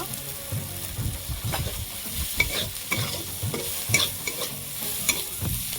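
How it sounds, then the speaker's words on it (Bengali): Spices sautéed in oil in a pan give a close, steady sizzle under rhythmic stirring and scraping, with occasional clinks of the spoon against the pan; no voices. "মশলা দিয়ে আমি ভালো করে কষিয়ে নিয়েছি মশলা থেকে তেল ছেড়ে গেছে"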